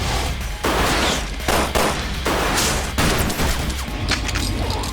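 Loud, dense gunfire fills a Resident Evil Zero gameplay scene, with rapid bursts of overlapping shots and booming blasts, broken by only brief gaps.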